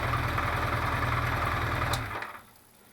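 A worn 1973 Honda CB500 Four engine idles with a rapid, slightly uneven low thrum during carburetor tuning, close up, then fades and cuts out near the end.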